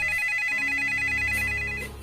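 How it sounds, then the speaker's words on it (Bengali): Telephone ringtone sound effect, a bright electronic trill repeating quickly and steadily for about two seconds with a low tone underneath, fading slightly at the end. "ফোন বেজে চলল, ফোন বেজেই চলল।"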